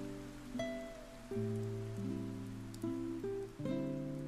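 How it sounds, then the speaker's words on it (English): Steady soft rain in the video game 428: Shibuya Scramble, a constant hiss running beneath gentle sustained music notes that enter one after another. "The rain had gotten even more intense to the point where Osawa could hear it in his study."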